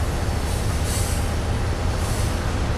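A train in Trainz Railroad Simulator 2019 rolls along the tracks with a dense, continuous rumble and hiss, loud and steady for the whole stretch, with no voices.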